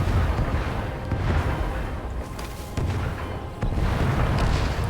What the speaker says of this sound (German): Wir können kurz warten, bis sie wieder geschossen haben.